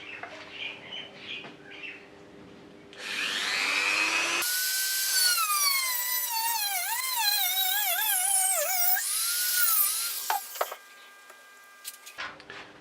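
Power tool cutting a metal propeller part, a loud sustained whine that rises in pitch and wavers as the blade bites, running steadily for several seconds before cutting off.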